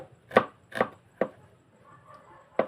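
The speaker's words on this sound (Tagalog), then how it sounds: "Hiwa po lang ako ng sibuyas." A knife chops onion on a cutting board for sinigang na salmon, four crisp close thuds with uneven gaps.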